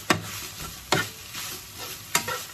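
Onions fry in a pan while being mixed, a soft continuous sizzle broken by three sharp scraping clacks of the spoon against the pan, with no voices.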